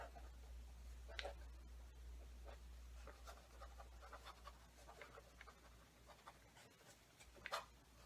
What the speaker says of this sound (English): I'll write some other things down.